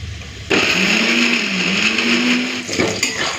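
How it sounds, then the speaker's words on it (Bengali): An electric grinder blending ginger, garlic and dried red chillies, a loud steady whirring drone that starts abruptly, shifts pitch slightly as it runs, then cuts off with a brief restart near the end. "প্রথমে এটাকে বেটে নিই আদা রসুন সাথে কয়েকটা শুকনো লঙ্কা নিয়েছি বেটে নেবো একসাথে"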